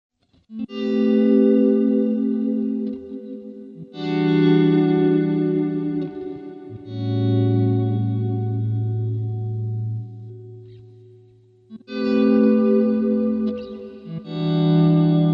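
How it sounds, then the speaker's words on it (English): Swelling atmospheric guitar pads from a BOSS GX-1 multi-effects processor using slow gear and reverb through the looper, sustained chords fading in softly and overlapping in long washes with brief gaps between them. "You can also use the looper to create atmospheric pads using effects like slow gear and reverb."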